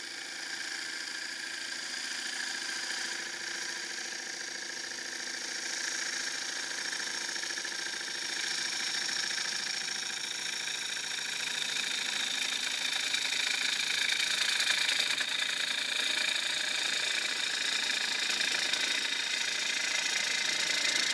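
Wood lathe turning while a tool cuts a wooden chopping board, a steady droning motor hum with a continuous hissing cut layered over it, close and unbroken for about twenty seconds, no talking.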